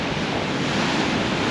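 Coastal flood water and waves at Wells, Maine, a loud, continuous roar of surf mixed with heavy wind buffeting the microphone, filling the whole stretch without pause.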